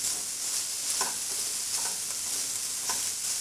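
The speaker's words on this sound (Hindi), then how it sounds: "इसके अंदर हम डालेंगे चिकन और इसे हम 1 मिनट तक भून लेंगे" Chicken frying in a hot pan over a medium flame, a steady close hiss of oil with a few soft stirring scrapes, no voices.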